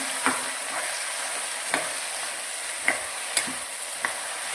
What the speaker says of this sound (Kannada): ಈಗ ಇದನ್ನು ಒಂದ್ಸಲ ಚೆನ್ನಾಗಿ ಮಿಕ್ಸ್ ಮಾಡ್ಕೊಳ್ಳೋಣ